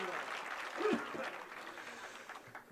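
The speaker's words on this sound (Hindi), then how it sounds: "आप उनकी मोहब्बत में बैठे, बस जोर तालियां बजा दीजिए" An audience at a memorial birth-anniversary event for Mulayam Singh Yadav claps, a fairly quiet, diffuse spatter of applause with voices murmuring and talking over it.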